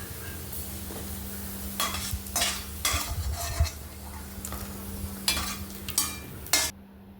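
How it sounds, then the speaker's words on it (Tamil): Pirandai (adamant creeper) frying in a pan, with a constant soft sizzle and a series of bright scraping strokes as a spatula stirs it, several bursts close together. "இப்போ பார்த்தீங்கன்னா நல்லா ஃப்ரை ஆயிடுச்சுங்க போதும் எடுத்துக்கலாம்"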